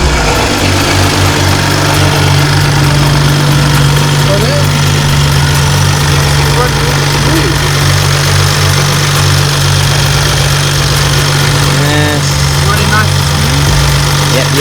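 A BMW M135i engine idles steadily and loudly after a rocker cover gasket change, with a constant low hum and faint ticking throughout, while people talk briefly nearby.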